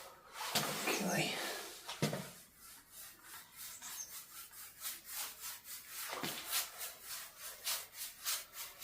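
Rubbing and cleaning a section of cottage floor, with repeated brisk scrubbing strokes in a steady rhythm, close and fairly loud, with a few heavier knocks early on.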